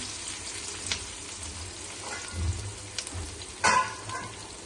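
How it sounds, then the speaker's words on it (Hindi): Onions for keema fry in a pan, a moderate continuous sizzle broken by a few clinks and scrapes of stirring, with one sharper clatter near the end and no speech. "तो अब इसमें जाएगा ये कीमे के लिए प्याज जाएगा"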